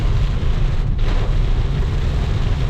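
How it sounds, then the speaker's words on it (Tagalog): Heavy rain pours steadily onto a vehicle during a road trip, a loud, dense, unbroken roar of drops across the whole moment. "Nagkusog naman ang ulan."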